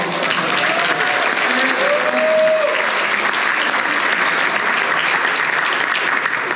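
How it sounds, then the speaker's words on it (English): An audience at a volleyball hall of fame and excellence awards gala applauds, a dense, steady wash of clapping that holds loud and even throughout with a few faint voices underneath. "maybe let's give a larger round of applause so that Brian can tell him that we actually"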